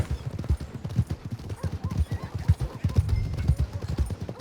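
Horse hooves clip-clop at a steady walking rhythm, close and clear, from the Red Dead Redemption 2 game, with a brief horse whinny mixed in and no talk.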